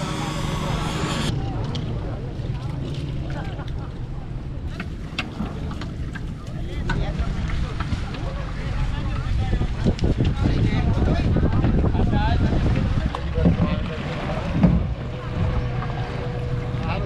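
Small fishing boats set out from a harbour for an evening catch, motors droning low and steady with wind buffeting the microphone, while someone speaks over the engine noise.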